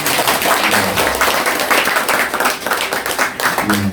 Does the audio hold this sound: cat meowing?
no